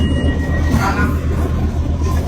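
Steady rumble and rolling hum inside a new SGR passenger train cabin in Ghana, constant and moderately loud with no talk.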